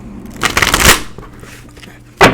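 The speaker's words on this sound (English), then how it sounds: "And then we'll go ahead and shuffle again on camera." A deck of tarot cards being shuffled up close: a loud riffling burst of papery flutter lasting under a second, then quieter handling and a final sharp snap of cards.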